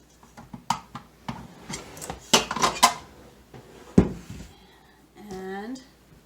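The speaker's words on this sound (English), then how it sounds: "so we scraped it, scraping it all out. Just dumping it on the counter here" Tart dough for a sweet tart is scraped from a mixing bowl and dumped onto a floured counter, with a string of close scrapes and knocks against the bowl and a voice speaking near the end.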